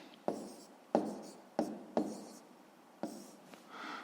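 A pen taps and scratches across paper while working a fifth-grade math exercise, with five or six distinct close strokes spaced unevenly and quiet rustle between them.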